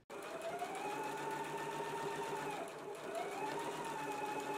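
A sewing machine runs steadily while stitching a placket seam at a 5/8-inch allowance, a close, continuous whirring hum with a slight dip in speed partway through.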